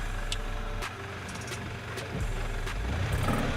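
A diesel Toyota Prado SUV rolls backward off-road while its engine idles at a low, steady rumble, with a few sharp clicks and knocks over the drone.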